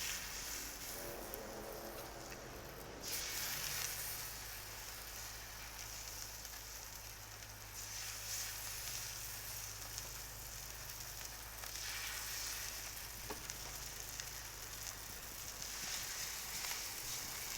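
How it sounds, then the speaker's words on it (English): Salmon steaks, skin side down, fry in oil on a griddle with a loud, steady sizzle and crackle that holds throughout. "when you're cooking the skin, you definitely want to make sure there's enough oil so that it doesn't stick to the surface that you're cooking on"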